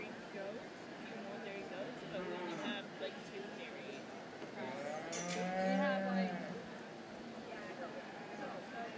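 Cattle moo at a county fair market steer show, several long lowing calls rising and falling over a busy crowd murmur with people talking in the background.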